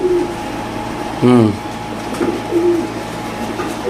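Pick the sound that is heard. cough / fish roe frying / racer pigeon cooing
racer pigeon cooing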